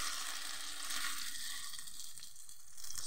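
Potato patties coated in breadcrumbs sizzle and crackle steadily in hot vegetable oil in a frying pan, close up, with no talking.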